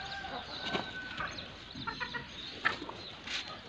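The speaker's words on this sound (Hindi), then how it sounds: "वो मुर्गियाँ खा लेंगी, लेकिन फिर भी इन्होंने ऊपर से खाना होता है।" Chickens clucking softly while pecking at food scattered on the ground, scattered short calls and pecks at moderate distance over a quiet background, with no talk.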